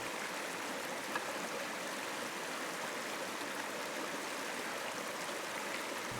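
A river flows steadily and close by, its broad rushing wash unbroken for the whole stretch, with no voices over it.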